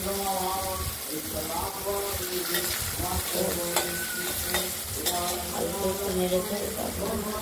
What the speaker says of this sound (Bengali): আমরা আলু আর ঢেঁড়স আগে একটু ভাজা ভাজা করে নেব।